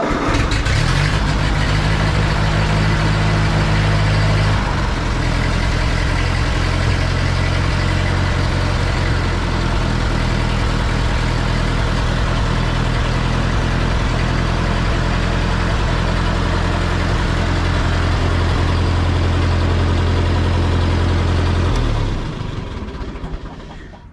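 A Ford 8N tractor's flathead engine, fitted with Autolite 216 spark plugs, runs loud and close at a steady, rumbling idle for about twenty seconds, then shuts off and fades to silence.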